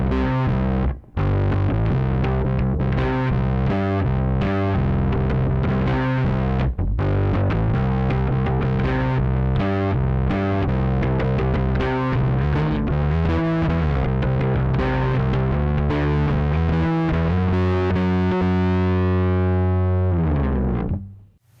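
A P bass played through an Aguilar Tone Hammer preamp with the gain turned up, giving a loud, heavily distorted run of fast notes and chords that ends in a ringing sustain before cutting off.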